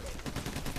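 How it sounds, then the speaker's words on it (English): Rapid burst of sniper rifle fire in the video game PayDay The Heist, loud dense cracks packed tightly together with no talk over them. "I'm getting shot by a goddamn sniper"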